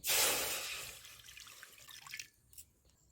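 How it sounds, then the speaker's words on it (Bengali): Boiled water poured off wood apple pieces while draining and straining them, a loud splashing rush at first that tapers into trickles and a few drips. "এবার নামিয়ে নিচ্ছে জলগুলো ফেলে ছেঁকে নিচ্ছে"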